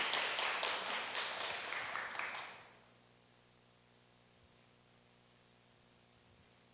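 An audience at a Gochang citizens' culture camp applauds to welcome a speaker. The clapping is dense and steady for under three seconds, then cuts off and leaves a quiet room with a low hum.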